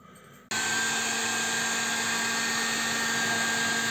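A heat gun warming the threaded fitting of a cheap faucet mixer switches on abruptly after a short quiet moment, then runs as a steady, loud fan-and-heater whine with a constant tonal hum.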